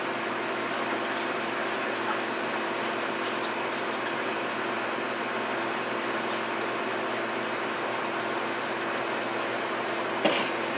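Liquid of newly hatched, decapsulated brine shrimp being poured into a second container: a steady, even rush of flowing water lasting the whole stretch, fairly close, with a brief knock near the end.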